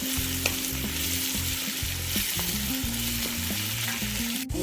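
Steady, close sizzle of ginger garlic paste frying in a pan, with a few stirring scrapes and no talking.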